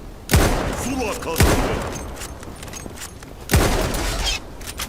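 Kar98 bolt-action rifle shots in a video game, three sharp, loud cracks spaced irregularly over a few seconds, each with a quick decaying tail over a low background rumble.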